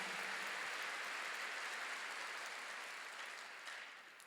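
A church congregation applauds together during a sermon, a broad steady wash of clapping that holds for several seconds and slowly fades toward the end, fairly distant and soft.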